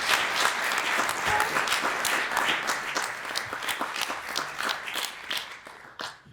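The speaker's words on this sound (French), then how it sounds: "encore un applaudissement pour son petit départ" A theatre audience applauds at the Cratère season presentation, with dense, sustained clapping from a crowd that carries on steadily and tails off at the end.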